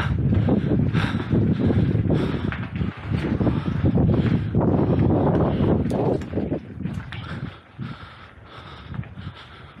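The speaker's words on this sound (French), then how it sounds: "Puis j'ai le vent de face dans le tunnel." Headwind inside a tunnel during a mountain bike ride roars and buffets the microphone, a loud, continuous, gusty rumble that eases slightly near the end.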